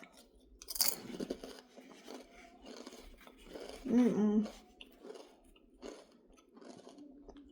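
Crunchy Miss Vickie's spicy dill pickle kettle chips being chewed close up, with bites and crunching spread through the clip and a brief peak of loud munching midway, plus a soft murmur.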